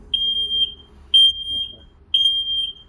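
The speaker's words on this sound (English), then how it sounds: "Here's the test button. That's tested. It's going to do it 3 times. The 3rd time will be alarm." A recreational-vehicle smoke detector sounds during a button test: three loud, piercing electronic beeps, evenly spaced about a second apart, each held roughly half a second, with no voices.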